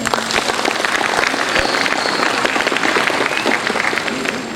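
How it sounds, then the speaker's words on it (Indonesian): An audience at an SMK Taruna Bangsa alumni talk breaks into sustained applause, a thick, even wash of many hands clapping at once, fairly loud and continuous with no speech over it. "Tepuk tangan untuk kita semua."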